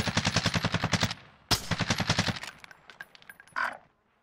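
Automatic gunfire in a battle royale video game: two rapid bursts of shots, loud and close, followed by scattered lighter pops and a short rush of noise near the end.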